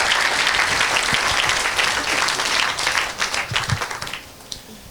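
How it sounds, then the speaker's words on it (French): A church congregation claps hands in praise, a dense, steady wave of applause that thins out into scattered individual claps near the end, with no voices over it. "Clap your hand for the Lord."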